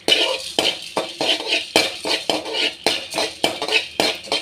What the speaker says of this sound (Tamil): இப்போ நம்ம இந்த தனியா, மிளகு, சீரகம் இதெல்லாம் போட்டு கொஞ்சம் அப்படி லைட்டாக வறுத்துடலாங்க